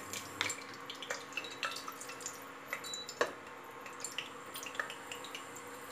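Whole spices crackle and pop in hot oil as a tempering for an egg and potato curry, with scattered sharp sizzling ticks over a soft steady hiss, close up.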